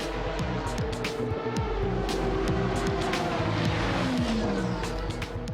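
Audi R8 race car at speed on the Monza circuit during a 1,000 km endurance race, its engine misfiring in the final laps; a loud, continuous engine roar with stepped gear-change harmonics, plus brief tire squeal.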